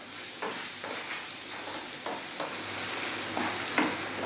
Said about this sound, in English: On a kind of medium heat, I want to cook this beef for about 4 to 5 minutes, stirring all the time.